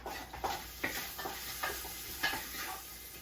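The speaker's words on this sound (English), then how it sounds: "Drop some olive oil in here. And with my garlic," Garlic sautéing in olive oil in a stew pot still coated from browned lamb makes a soft, close sizzle broken by a few light stirring scrapes.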